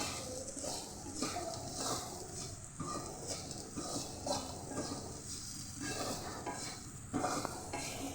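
A spoon stirs banana fry mixture around a metal pan, with repeated scraping and clinking strokes over a faint sizzle, steady and close throughout.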